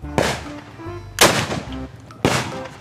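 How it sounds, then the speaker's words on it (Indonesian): Three loud, sharp blasts from a spiritus firecracker cannon built from a cigarette tin, each boom ringing out into a short rumbling decay, evenly spaced about a second apart outdoors in a village. "langsung kita serang kampung sebelah menggunakan mercon spiritus dari kaleng rokok"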